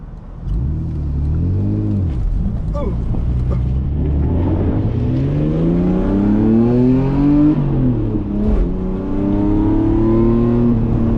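A manual Toyota Soarer SC300 engine revs hard and climbs through gears, pitch rising then dropping at each shift, loud and close with a rough growl.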